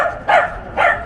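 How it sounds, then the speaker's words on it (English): Dogs bark on a street in Southport, England, giving two loud, separate barks about half a second apart, close by and with no talking. "Very social dogs."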